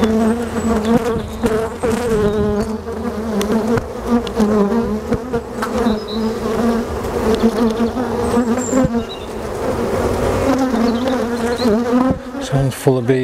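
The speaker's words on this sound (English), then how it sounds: "There's a lot of bees in here now" Honey bees buzz in a dense, loud drone from an open hive in a UK apiary, a steady humming swarm with small rises and falls in pitch as individual bees pass close.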